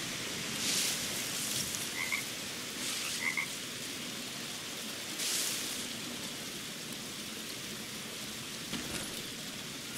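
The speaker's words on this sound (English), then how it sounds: "Frogs." Frogs croak in a jungle in the Green Hell video game, several short calls spaced apart over a constant hiss like steady rain.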